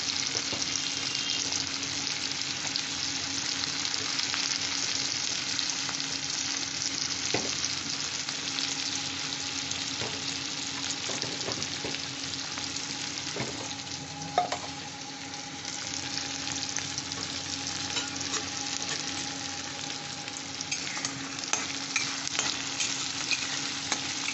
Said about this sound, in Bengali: আর পেঁয়াজ কুচনো দিয়ে দিচ্ছি এই লঙ্কা দিয়ে দিলাম কাঁচা লঙ্কা